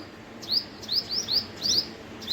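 Small birds give sharp, high, repeated chirps, about eight quick calls in a loose run, close and fairly loud over a faint outdoor background as they mob a pet squirrel.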